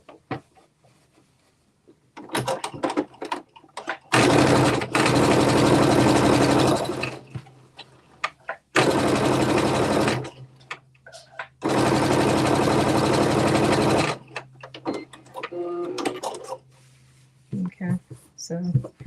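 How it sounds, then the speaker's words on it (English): A sewing machine runs in three long, loud bursts of edge stitching along the top of a garment, with short pauses and a voice talking between runs. "I'm just going to do top edge stitching"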